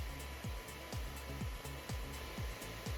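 Small cooling fan on a Radxa Cubie A7S single-board computer whirring steadily at close range, a constant breathy hiss with a faint low hum and regular soft ticking pulses throughout, no voices.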